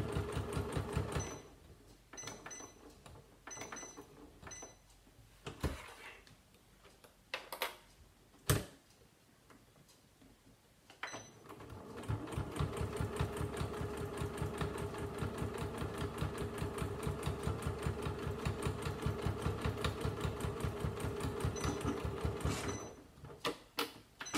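A sewing machine stitches a fabric coaster, running at a slowed speed in short bursts with pauses, then in a long steady rhythmic run of closely spaced needle strokes, fairly close and moderately loud.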